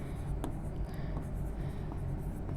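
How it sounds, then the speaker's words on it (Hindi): Pen scratches across paper while notes are written, a close run of soft rasping strokes with small taps over a low background hum. "लिख लेते हैं"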